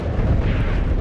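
A heavy boom rumbles from a tank gun firing in the WWII game Tank Warfare: Tunisia 1943, a dense low explosive blast filling the whole short moment.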